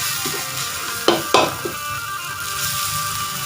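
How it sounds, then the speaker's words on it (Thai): Eel pieces dry-frying in a hot pan with red curry paste for a spicy Thai-Lao eel curry, a steady sizzle with a couple of sharp spatula scrapes and stirs near the middle, close up and with no talking. "เอาปลาไหลครับ ลงไปคั่วเลยครับ"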